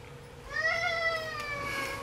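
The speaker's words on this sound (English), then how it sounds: "Would you shut up, cat?" A cat meows once nearby, a drawn-out, wavering call that rises and falls over roughly a second and a half against a quiet indoor room.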